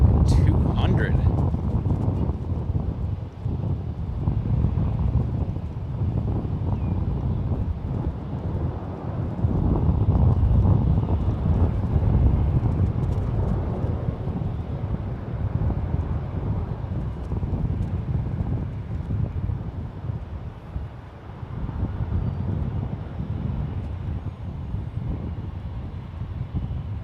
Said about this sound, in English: Here comes Fiji Flight 871 in from Nadia